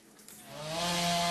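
A chainsaw felling mature street trees in a city revs up from low to a loud, steady high whine over about a second, close by and alone.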